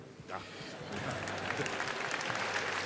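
Applause at an award ceremony honouring Kira Muratova as Person of the Year 2007 starts quietly, then swells after a moment into a dense, steady clapping from a large audience, with talk over it.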